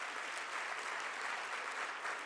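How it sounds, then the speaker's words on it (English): A crowd gives steady, dense applause for a group of students at a 2021 National Junior Honor Society induction ceremony, sustained and even throughout with no voices over it. "can I hear a big round of applause for this wonderful group of students"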